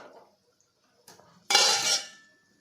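A metal lid set down on a cooking pot in a home kitchen while a clam curry simmers: a few soft clinks, then one loud close clatter that rings briefly and fades, no talking.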